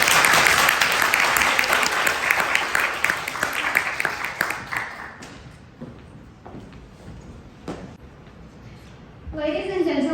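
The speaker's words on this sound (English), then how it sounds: "Let's applaud her." An audience at a language conference speech in Beijing applauds, a dense burst of clapping that fades after about five seconds into scattered claps and room noise, followed by the start of speech.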